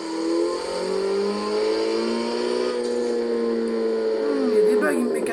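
Opel Astra H OPC in Forza Motorsport 7 launching from a held rev and accelerating, its engine note climbing steadily and loudly through the clip with a brief shift near the end.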